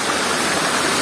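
Gadingan waterfall at Puralaksana in Way Tenong, Lampung, a loud, dense, unbroken roar of falling water filling the whole short stretch, close by and with no voices.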